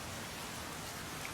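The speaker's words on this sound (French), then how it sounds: "Les sons que je kiffe trop, le son de la pluie." Steady rain falls as a continuous, even hiss of drops with no other sounds, faint and unbroken throughout.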